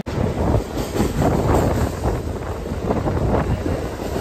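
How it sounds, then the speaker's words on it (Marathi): A Mumbai suburban local train rolls into a station, a steady loud rumble and rush with wind buffeting the microphone throughout, no speech. "आली ट्रेन आली"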